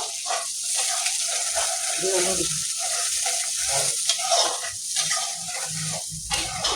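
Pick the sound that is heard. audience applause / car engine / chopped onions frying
chopped onions frying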